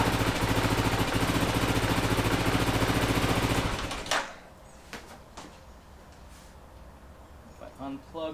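A Kawasaki KLR650 motorcycle engine idles steadily and loud for about four seconds, then cuts out abruptly, leaving near silence with a few faint clicks and brief speech near the end.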